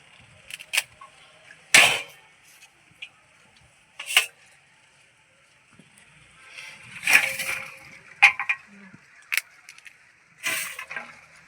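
A hard bael (wood apple) shell is struck repeatedly to crack it open, giving sharp, separate knocks and cracks at irregular intervals, close by with quiet gaps between hits.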